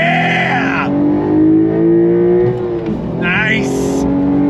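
Porsche 911 Carrera T accelerating hard in second gear, a loud rising engine note climbing in pitch, easing briefly before pulling again, with a voice exclaiming near the end.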